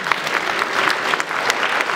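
Audience applause at a memorial evening concert as Valentina Vasilyevna is called to the stage, a brisk, even clapping from a hall crowd lasting the full moment without speech.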